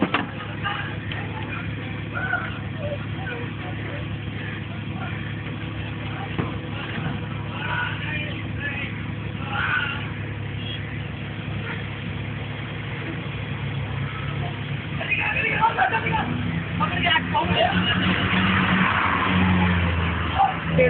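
A car engine revs and accelerates as the vehicle is driven off during a car theft, with a steady engine drone and a louder surge near the end, while people shout and talk over it.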